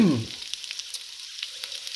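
Earl Campbell's Red Hot Links fry in a pan: a brief low thump, then a soft, steady crackling sizzle with scattered pops, close and alone.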